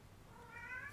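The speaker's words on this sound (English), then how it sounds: "if you hear a cat in the background, I'm fostering and he won't shut up." A single short cat meow, faint in the background of an indoor room, rising and drawn out briefly.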